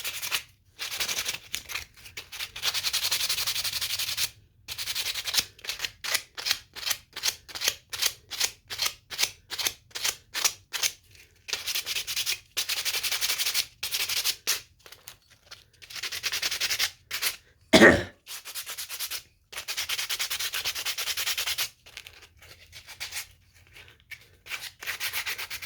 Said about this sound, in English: Sanding that old cedar, it can get to you.